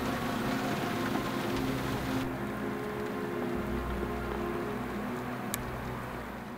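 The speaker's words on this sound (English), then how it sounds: "The next several days blurred into each other as the rain continued seemingly non-stop and" Steady rain pours down in the Alaskan wilderness, a dense, continuous hiss with low rumbling underneath and no voices, unchanging in loudness throughout.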